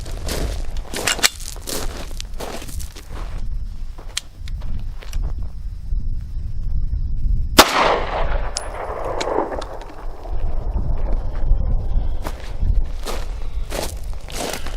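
A single CZ Scorpion Micro EVO 3 S2 round fired at a snow-filled can outdoors: a sharp loud report with a hissing, scattering decay, preceded by scattered footsteps and handling clicks.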